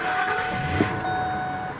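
A 2001 Ford F-150 V8 pickup with about 148,000 miles cranks briefly and catches, then settles into a steady, close idle hum with no talk.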